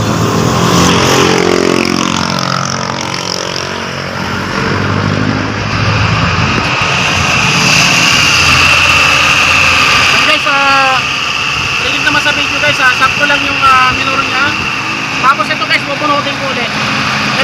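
A Mitsubishi L300's 4G63 gasoline engine drones and roars steadily up close near 1000 rpm, with people talking over it.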